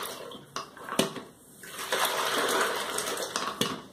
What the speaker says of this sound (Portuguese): Colocar na água, girar.